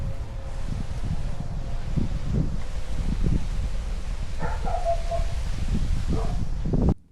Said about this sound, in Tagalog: maingay yung aso at saka maingay din yung hangin